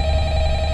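A telephone rings in a horror video game, a brief steady electronic tone held at full level for under a second with a low hum underneath.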